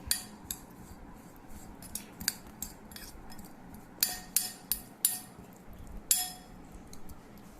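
Utensils clink and scrape against a bowl while a salad dressed with lemon juice is tossed, a series of sharp metallic taps spaced irregularly over steady low background noise, nearby and without speech.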